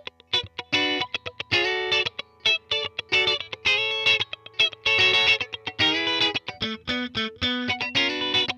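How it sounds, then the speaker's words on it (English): Dry, clean electric guitar chopping out a funky rhythm in short, punchy strummed bursts with muted gaps, played up close with no talking. "a really dry, clean tone for playing funky rhythm like this"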